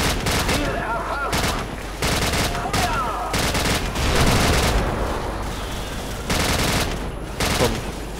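In Call of Duty 4: Modern Warfare, an automatic weapon fires in loud, near-continuous bursts with dense overlapping shots and booms, with brief gaps between volleys.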